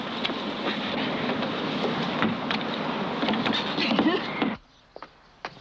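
A motorboat engine runs steadily at close range with a broad, continuous rumble and wash, then cuts off abruptly near the end, leaving near silence with a few faint knocks.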